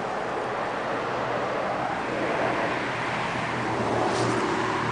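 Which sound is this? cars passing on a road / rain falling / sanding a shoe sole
cars passing on a road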